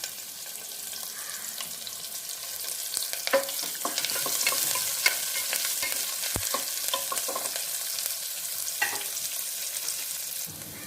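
Curry leaves and slit green chilies frying in a pan for a bottle gourd curry, with a steady crackling sizzle, occasional stirring scrapes and clinks, close and continuous with no speech.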